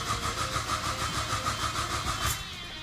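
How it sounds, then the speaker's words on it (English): A Mazda 6 MPS engine cranks with rapid rhythmic starter pulses, its first start since a GTX3071 turbo install, nearby and fairly loud, before the cranking drops away. "First time starting up since the turbo install"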